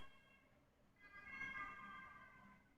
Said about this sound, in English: It was a siren. Police, I think.